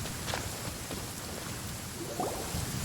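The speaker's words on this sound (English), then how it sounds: "Rain. My hair and feathers are gonna get soaked." Steady rain from the Genshin Impact video game, a dense broadband hiss of falling drops with scattered brief patters, fairly loud and continuous, no talk.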